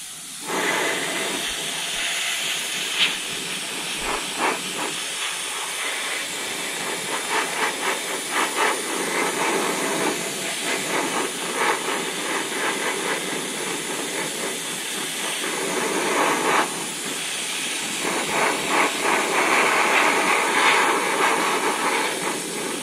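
Aerosol spray paint hisses in steady bursts across the body of a Kyosho Pegasus RC car, moderately loud and close, with short pauses between passes.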